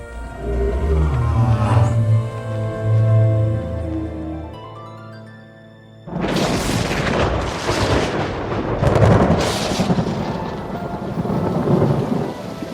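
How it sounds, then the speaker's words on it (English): A violent prehistoric thunderstorm: a dramatic music swell fades, then heavy thunder crashes in with loud roaring rumbles and dense pouring rain, sustained and close. "Days later, the storm of the millennium strikes without warning."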